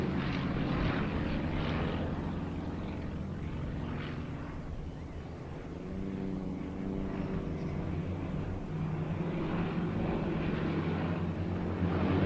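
Yak 52 propeller aircraft flying aerobatics at Tauranga; a continuous droning radial engine and propeller sound, moderately loud and steady, with subtle swells as the plane maneuvers.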